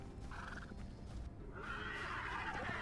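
A horse in the video game Hytale gives a drawn-out whinny over steady background game ambience, with a second brighter neigh following, moderately near.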